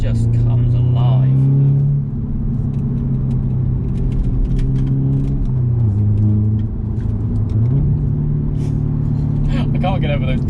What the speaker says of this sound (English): I can't get over those downshifts.